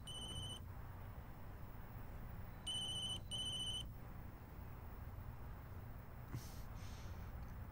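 A telephone rings in a dubbed drama scene: three bursts of a high electronic ringtone, one short, then two close together, over a low steady background hum, with no talk.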